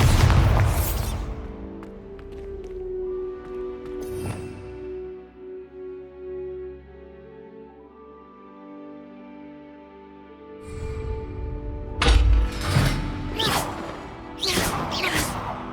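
Bombarda blasting spells explode in Hogwarts Legacy: a heavy booming blast opens, its rumble ringing out and fading over several seconds, then a second cluster of loud crashing explosions and debris bursts hits near the end.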